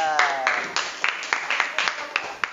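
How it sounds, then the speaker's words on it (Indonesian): A classroom of students claps for a classmate, a run of sharp, irregular claps lasting a couple of seconds at moderate loudness, with voices faintly mixed in. "Oke, tepuk tangan dulu untuk Ardan."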